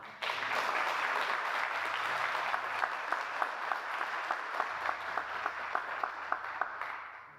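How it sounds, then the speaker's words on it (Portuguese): A church congregation applauds God during a sermon, steady dense clapping throughout with a few sharper individual claps standing out toward the end, fairly distant and even. "Vamos aplaudir Ele então."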